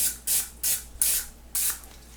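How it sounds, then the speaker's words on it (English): Cooking spray hisses over a baking pan in four short bursts, each a sharp airy spray about a quarter to half second long, separated by brief pauses, close and fairly loud in a quiet kitchen. "I'm going to get some cooking spray"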